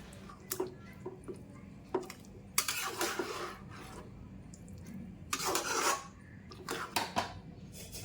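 A utensil scrapes and rasps against a pan while lemon chicken with chopped coriander is stirred, giving quiet intermittent scraping strokes and a few light clinks, with two louder bursts of rubbing and shuffling.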